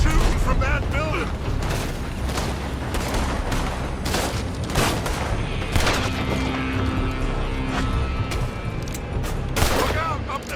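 Dense volleys of gunfire crack from a building during a shootout in Red Dead Redemption 2, shots overlapping in rapid bursts at close to mid range, with voices speaking under the constant firing.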